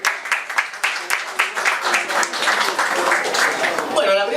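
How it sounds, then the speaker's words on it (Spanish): Audience applause for the panel at a poetry festival round table, a full, busy burst of clapping from a crowd that holds strong and ends with a voice breaking in. "Pido de vuelta un fuerte aplauso para..."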